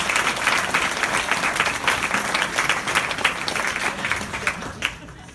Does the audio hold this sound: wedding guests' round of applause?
yes